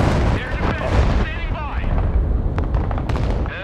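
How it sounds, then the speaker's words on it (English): Missile launches from an S300 air-defence system in the video game Broken Arrow, a sustained loud roaring blast with rumbling low end that fills the whole clip while players talk over it. "Just shot two missiles"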